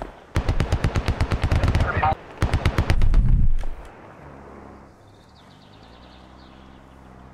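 Rapid automatic gunfire bursts from a military squad video game, loud and close in two long rattling strings, then fading to a quiet outdoor ambience with faint distant pops.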